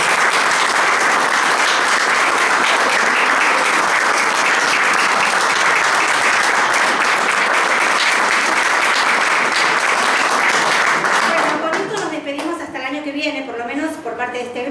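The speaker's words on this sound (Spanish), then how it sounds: "Así que bueno, un aplauso." A theatre audience at a student orchestra showcase gives a sustained round of applause in thanks to the actor who built the instruments and organised the music. The clapping is loud and even, then fades as a voice begins speaking near the end.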